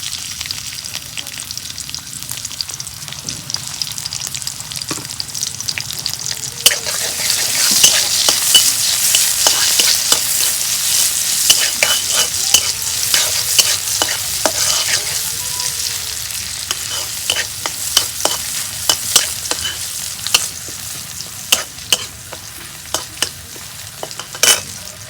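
Chopped onions frying loudly in a hot pan, a bright, dense sizzle that swells and holds, peppered with sharp clicks of the spoon stirring through them, no voices.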